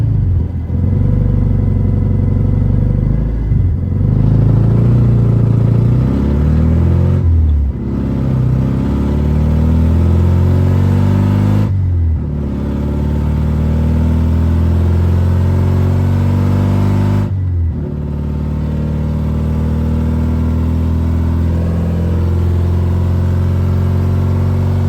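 A BMW E36 engine pulls loud and close, climbing in pitch, then dropping sharply at each gear change about every four to five seconds, with a steady drone between shifts and no voices.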